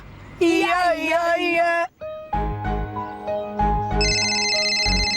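A synthesized phone ringtone melody plays loudly, with brief pauses and bright repeating tones, while a voice speaks over part of it.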